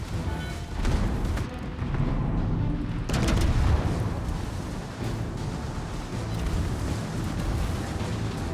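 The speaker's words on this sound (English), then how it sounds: "Let's use our back turrets against the Veneto." Rear main-battery turrets of a US New Mexico battleship firing in World of Warships, heavy booming salvos with rumbling tails over continuous engine and sea noise, loud and close.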